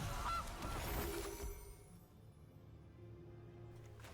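Goose honk effect from the Gilded Goose card in the MTG Arena video game, a loud nasal honk at the start that fades into quiet background game sound.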